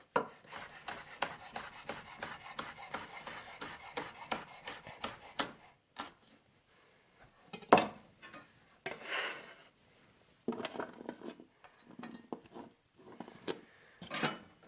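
A knife slicing vegetables into short strips like half rings on a board during Sunday meal prep, with steady rapid cuts at first, then a pause and a few scattered cuts and clatters, fairly close and unaccompanied by talk.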